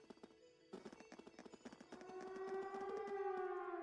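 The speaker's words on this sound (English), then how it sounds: "It sounds like a siren." A siren wails from a fort in the video game The Legend of Heroes: Trails of Cold Steel. It starts as rapid pulsing tones, then swells into a sustained rising and falling wail that holds loud to the end.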